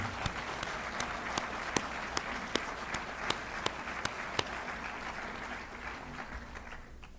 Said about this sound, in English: how about a huge round of applause for our amazing students here who all won awards this evening